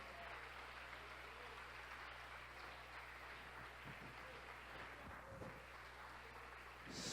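A church congregation applauds during a Friday-night worship service, a faint, diffuse wash of clapping over a steady low hum, rising slightly at the very end.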